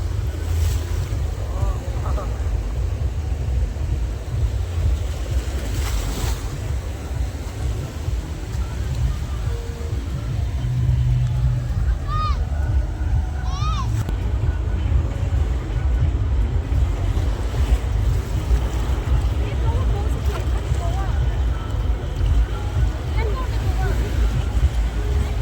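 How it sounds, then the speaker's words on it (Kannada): Ocean waves wash steadily onto a beach in Goa at night, a continuous broadband roar of surf mixed with wind buffeting the microphone, with faint voices in the background. "ನೋಡಿ ಬೀಚ್ ಸೌಂಡ್ ಕೇಳಿಸ್ಕೊಳ್ಳಿ ಹೇಗಿದೆ ಅಂತ"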